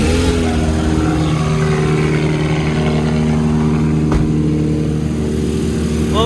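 A twin-engine Getz with both engines running: a loud, steady, close engine drone that holds level throughout, with a brief click partway through.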